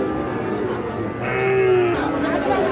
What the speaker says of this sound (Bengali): এই পাশে একটা দেখছি শাহিওয়াল ষাঁড় বাছুর